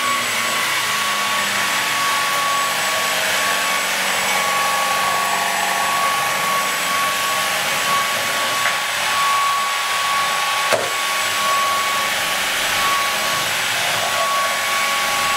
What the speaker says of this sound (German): Er zeigt zwar noch Eco an, ist aber ganz klar schon wieder im Turbo-Mode.